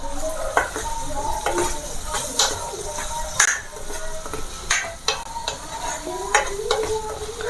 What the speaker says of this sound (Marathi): त्यात गाळून घेतलेले सुरणचे तुकडे टाकायचे आहे आणि परत एकदा फ्राय करून घ्यायचं आहे।